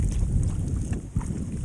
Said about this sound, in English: And it's quite windy.